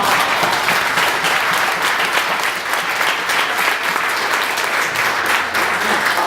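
Wedding guests clapping for the bride after her speech to her father, a loud, full burst of applause sustained evenly throughout.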